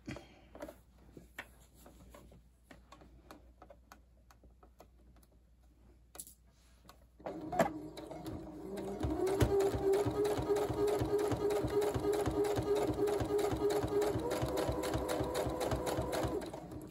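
A sewing machine set to a 5.0 stitch length starts after some quiet handling and small taps, then runs in a steady, fast rhythmic chatter of stitches, close and continuous to the end.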